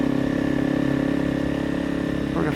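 A Honda CRF300 Rally motorcycle labours up a steep road in a low gear, its single-cylinder engine holding a steady, close drone throughout, with a slight change in pitch near the end.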